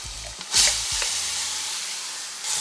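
Beef dropped into a hot pan with ginger and garlic for Trini-style curry beef, giving a steady broadband sizzle with a few soft stirring knocks early on and a brief louder burst of frying.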